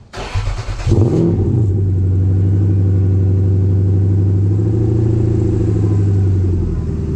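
Cold start of a supercharged Lexus GS400 engine: a starter crank followed by the engine catching, a brief rise in revs, then a steady loud idle close by.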